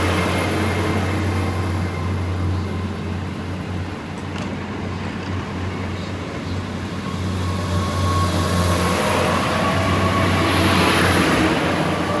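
Class 800 train, unit 800-021, departing: steady, loud engine drone and rolling rail noise heard from close by, with a faint high whine and rising intensity toward the end.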